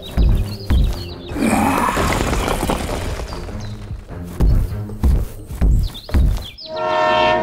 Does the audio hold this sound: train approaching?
yes